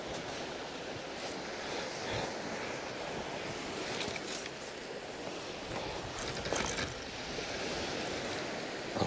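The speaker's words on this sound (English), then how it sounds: "Wind's a bit fresh." A fresh wind blows across a sandy beach on a fishing trip, a steady broadband rush with surf in the background and gusts buffeting the microphone, no talking.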